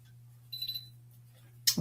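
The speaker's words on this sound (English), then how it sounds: "Okay, so it beeped." A hot foil machine for card making gives a short, faint electronic beep, then a second brief tone, over a constant low electrical hum.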